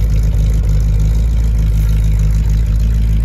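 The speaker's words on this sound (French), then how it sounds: "Ça fait un très joli bruit avec sa double ligne d'échappement." A 1964 Chevrolet Corvette C2 convertible engine rumbles deep and steady at idle through its dual exhaust, a loud, throaty low growl filling the whole moment with no voices.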